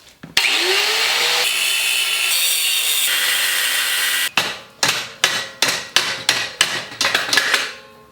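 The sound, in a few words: cutting off a motorcycle kickstand from its frame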